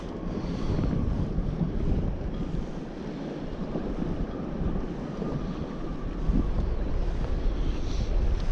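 Steady wind buffeting the microphone while squid fishing on the water, a continuous loud rushing roar with low gusts and no talk.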